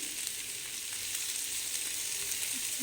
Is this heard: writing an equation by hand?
no